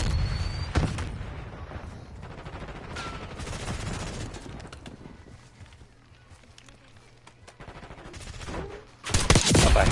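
Hand cannon gunfire in a Call of Duty Black Ops 6 Warzone Resurgence match comes as several sharp, loud shots amid other battlefield noise, with a final burst near the end.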